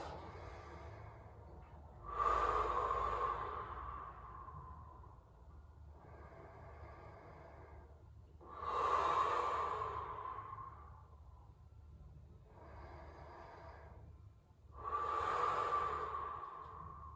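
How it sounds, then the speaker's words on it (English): Three deep, slow diaphragmatic breaths taken during a hip and groin cool-down stretch. Each breath has a long, airy inhale and a softer exhale, evenly spaced, close and alone. "3 deep, slow diaphragmatic breaths"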